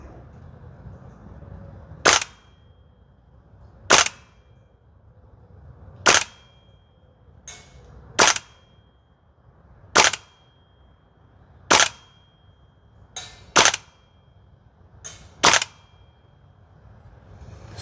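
A Toxicant XM5 Sig Spear gas blowback airsoft rifle fires single shots outdoors on a range: eight or nine sharp, crisp cracks spaced about two seconds apart, with faint softer clicks between some of them.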